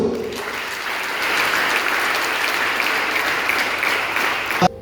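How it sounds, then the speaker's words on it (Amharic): A church congregation claps together in worship, a dense, loud, sustained burst of applause that swells and holds for several seconds before cutting off abruptly, with no voices over it. "ለጌታ ክብር አጨብጭቡ።"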